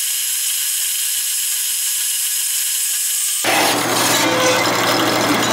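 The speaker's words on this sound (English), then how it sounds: "Cut this billet up." A power saw cuts into a Damascus steel billet in a workshop. A few seconds of low hum give way to a sudden, loud, harsh grinding cut that continues steadily to the end.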